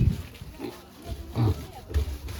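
A few short, low grunts from piglets close by, irregular and separated by brief pauses, with faint background noise.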